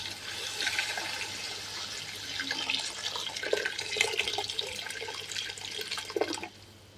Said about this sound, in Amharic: የፈላ ውሃ ጨምርበታለሁ ማለት ነው።